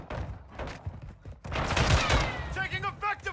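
Rapid gunfire bursts from the video game Call of Duty Modern Warfare 2, loud and dense for about a second in the middle, mixed with game voice callouts and other battlefield noise.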